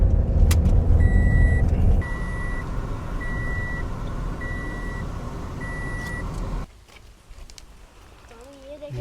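A car is driven and parked in Karachi: a steady engine and road rumble with a parking-sensor beep repeating at an even pace, then the engine noise drops to a quieter hum near the end.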